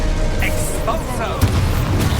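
An Expulso spell explosion in the Hogwarts Legacy video game gives a loud, close boom and burst amid dense game noise, with a person's voice over it.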